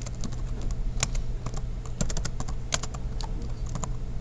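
Commands typed on a computer keyboard at the MATLAB command prompt: rapid, close, irregular key clicks in quick bursts, with no one talking.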